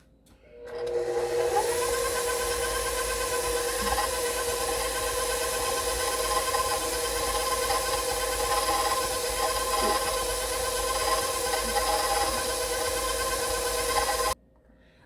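An electric mixer beats Andes mint cookie dough, starting at low speed; a steady, close whirring motor hum runs alone for about fourteen seconds, its pitch climbing slightly early on, then stops abruptly.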